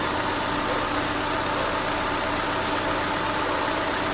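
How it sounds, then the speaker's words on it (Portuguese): A 2000 Honda Civic EX engine idles while cold with fluctuating RPM that occasionally threatens to stall, a dense, steady, close mechanical drone with no voices. "o regime de rotação do motor, ele alterna aqui, às vezes quer morrer, ele sobe um pouco o giro ou abaixa"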